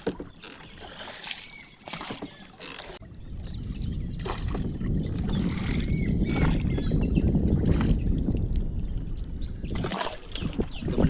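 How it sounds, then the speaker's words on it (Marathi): Someone rows a small wooden boat on water on a mud crab catching trip, with steady sloshing and splashing of the oar against the water, close and continuous under rushing wind, with a few sharp knocks. "शुभम होडी हलवता."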